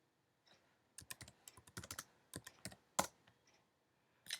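Typing on a computer keyboard while entering a sudo command at a command line: a quick irregular burst of crisp key clicks, close and fairly quiet, with short pauses and one louder keystroke near the end.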